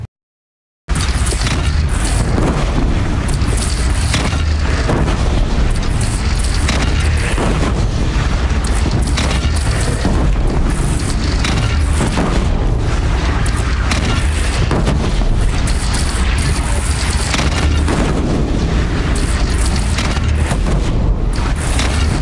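Cannon fire and explosions in the video game Horizon Zero Dawn during a battle with a bandit clan, continuous loud booms and bursts layered densely for over twenty seconds.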